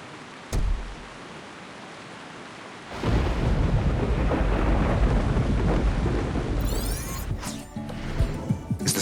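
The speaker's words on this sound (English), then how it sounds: "Oh, raining?" Heavy rain and rolling thunder from the CounterSide video game, a sharp thunder crack early followed by a loud, dense downpour that fills the scene, with further rumbling near the end.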